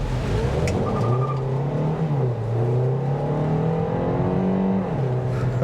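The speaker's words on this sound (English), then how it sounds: "it started off really, really quiet because it started off with the electric on it, but right away the combustion engine kicked" A 2023 Kia Niro EX plug-in hybrid in sport mode accelerates hard. A steady engine drone climbs in pitch through gear shifts, with tire and road noise in the cabin throughout and no speech.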